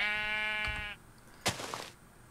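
A sheep bleats in a video game, one clear harmonic baa that stops abruptly, followed by short clicks and a brief burst of noise, all fairly quiet.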